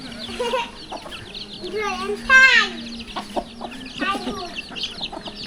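Chickens cluck nearby in short irregular bursts, with one louder squawk, amid faint outdoor background noise.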